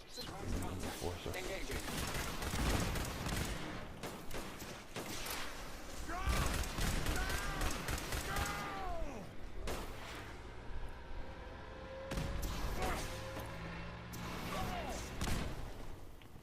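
Gunfire in Fallout 4 on PS4 with the Hell on Earth mod: repeated sharp shots and bursts in a steady, uneven stream, with clanking mechanical sounds and crashes in between, fairly quiet overall.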